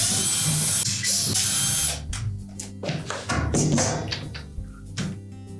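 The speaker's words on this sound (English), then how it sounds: "We're simply then going to remove the two screws from the outside of the tub that secure that wheel assembly to the side of the tub" A power driver whirs to back out 5/16 hex head screws that secure the wheel assembly to the side of a Whirlpool dishwasher tub, with several short bursts of motor whine between pauses, close and loud.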